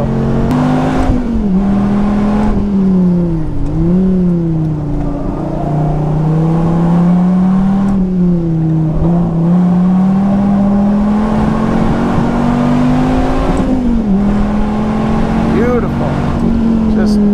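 A Dodge Viper V10 lapping a race track gives a loud, sustained engine drone that rises and dips with throttle and gear changes, close to the car, with a voice faintly present over it.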